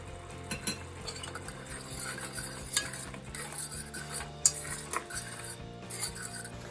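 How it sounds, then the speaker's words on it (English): Onions, garlic and pepper cooking in a pot for spicy chili, a faint low sizzle with scattered scrapes and clinks of a stirring utensil, quiet and close. "And now we'll add our onions and garlic and pepper and let that cook for a couple of minutes"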